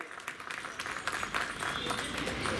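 Loud welcoming applause from an audience at a CPWD New Year get-together, a dense, steady patter of many hands clapping throughout, heard from a moderate distance.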